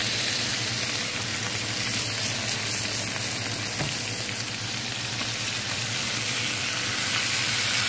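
Fish frying in a pan with oil and a little dried coriander, giving a steady, close sizzle that runs unbroken throughout with no talking.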